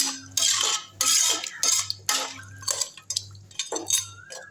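A metal spoon scrapes and clinks against a cooking pot of rice and rock salt in repeated stirring strokes, close by, over a faint low hum.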